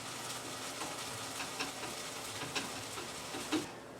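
Pork chops sizzle and crackle in hot oil in a pan, a steady close frying hiss with a few soft pops and utensil ticks, no voices.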